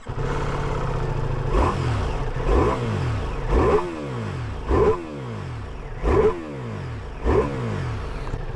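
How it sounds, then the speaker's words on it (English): A Ducati Multistrada V4 Pikes Peak motorcycle with a counter-rotating V4 engine idles steadily, then is blipped about six times in an even rhythm. Each blip brings a sharp rev rise and a quick fall, loud and close, with no talking. "And the best thing about this bike, listen, this engine, oh, listen to this."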